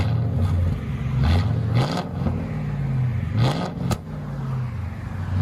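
A Ford 4.6-liter modular V8, the two-valve or four-valve version, revs up several times in close succession, with rising and falling pitch over a steady rumbling drone.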